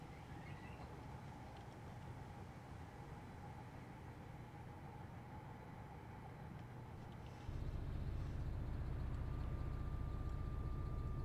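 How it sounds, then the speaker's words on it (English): Class 66 locomotive bogies roll past up close in Train Simulator, giving a steady loud rumble and hiss that jumps louder partway through, with no talking. "Get up close to these"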